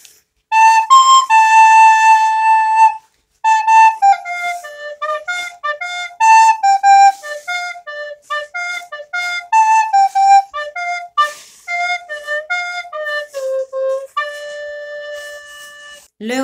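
A soprano recorder plays the whole first verse of a simple tune, a long run of clean, piping notes in phrases separated by short breaths, close and solo throughout.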